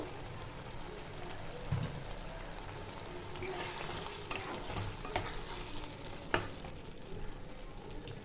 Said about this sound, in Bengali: উপর থেকে একটু সর্ষের তেল দিয়ে দেবো 1 চামচের মতন